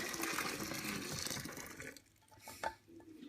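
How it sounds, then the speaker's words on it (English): A hot homemade laundry detergent mixture is poured into a 5-gallon bucket sitting in a sink. The liquid gushes and splashes steadily for about two seconds, then a few faint drips and small splashes follow. "I'm going to take this very hot mixture over to my 5-gallon bucket that I have in the sink. And I'm just going to pour it in."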